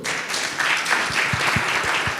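A conference audience at an e-commerce talk breaks into applause, a loud, dense burst of many hands clapping together that continues steadily throughout.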